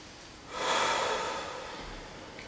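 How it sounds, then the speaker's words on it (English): One deep breath, a long airy inhale or exhale that swells after half a second and slowly fades, close and fairly soft, with no talking. "Breathe."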